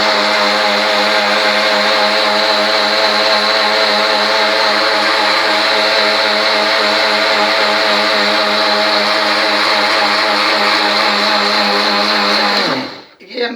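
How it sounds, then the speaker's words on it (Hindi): An electric grinder whirs loudly and steadily as it grinds tamarind, dried plums, black salt and sugar, holding a constant high-pitched drone for most of the time before spinning down and stopping near the end. "ये 4-5 चीज़ें हैं, ये डाल के आपने अब ग्राइंडर कर लेना"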